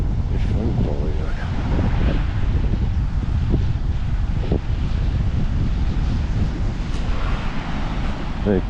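Steady wind and surf roar continuously at the seaside in Šventoji, Lithuania, with broadband rumble dominating throughout and only faint traces of other sounds.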